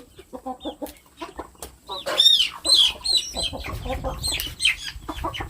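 Chickens cluck repeatedly nearby in short, choppy bursts, with a few louder squawks mixed in among the flock's chatter.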